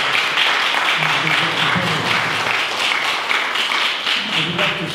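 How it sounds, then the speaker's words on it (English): An audience claps steadily for guests at a gathering on the protection of Middle Eastern Christians in the Church of Notre Dame, with the clatter holding at an even level and a voice briefly rising underneath. "I think we should give an applause to those very extraordinary."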